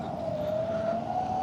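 An Ather 450X electric scooter ridden along gives off a thin, steady motor whine that rises slightly in pitch over road and wind noise, close and moderately loud.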